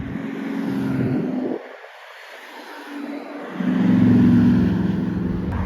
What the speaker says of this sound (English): And here come the hypercars again, the Chiron Pure Sport.